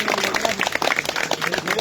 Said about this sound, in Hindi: जोरदार तालियों से एक बार सभी साथी स्वागत करेंगे।